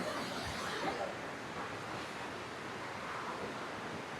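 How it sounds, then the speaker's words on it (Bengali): A waterfall in Nepal gives a steady, full-bodied roar of rushing water that holds at an even loudness from start to finish, with no voices. "এটা হচ্ছে সেই ঝর্ণা"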